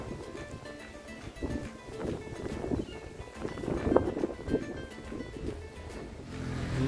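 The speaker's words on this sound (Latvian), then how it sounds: "kur baigais vējš ir, bet silts, 32 grādi." Gusty warm wind in Sanremo, near its fortress, buffets the microphone in low rumbling surges, with faint outdoor noise behind it and no speech.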